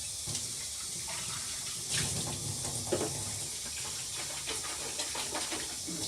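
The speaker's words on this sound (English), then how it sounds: "So we're going to now rinse this out with cold water." Cold water runs from a tap into a sink to rinse the tank of a Bissell 3624 SpotClean Professional portable carpet cleaner, making a steady hissing rush with a few brief splashy surges and no talk.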